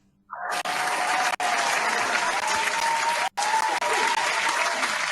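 A large audience at a movie trivia awards ceremony bursts into loud, dense applause that starts abruptly and holds steady, with two brief cutouts breaking the sound.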